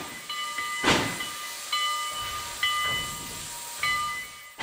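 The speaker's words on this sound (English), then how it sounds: "Now arriving on Track 5 is one of the Southland's most glamorous named trains" The Crescent passenger train of the Atlanta & West Point arrives at a station, rolling through with a steady hiss and repeated rhythmic clanks, each hit ringing with metallic tones, loud and close with no talking.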